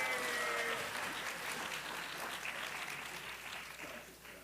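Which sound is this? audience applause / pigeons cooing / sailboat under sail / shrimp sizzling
audience applause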